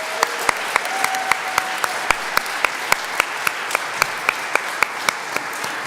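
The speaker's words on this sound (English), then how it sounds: "Big round of applause" An audience at a college MLK Day debate event applauds steadily, with sharp regular claps standing out over continuous dense clapping.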